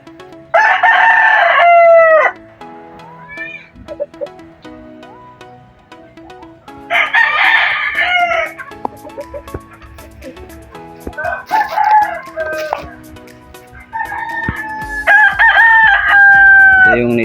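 Native roosters crow loudly and close by, with several long calls overlapping one another and a low clucking and scraping heard between them.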